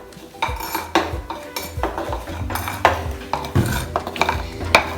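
A metal spoon scrapes and clinks against a pot while mixing thick sweet pongal, irregular close knocks and scrapes repeating throughout with no talk.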